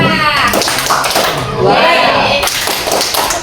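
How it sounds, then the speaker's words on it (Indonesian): A group at a school gathering performs a rhythmic clap routine, sharp sets of patterned claps and taps mixed with voices chanting along, close and lively. "Tepuk wow untuk Bu Wahda."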